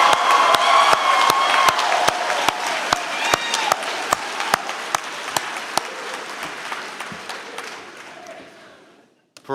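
A graduation ceremony crowd claps steadily, loud and sustained with sharp individual claps standing out, then fades to near silence at the end.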